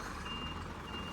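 Reversing beeps from a PA truck at a fiesta disco party loading site, a steady high tone pulsing over a low rumbling engine and crowd murmur.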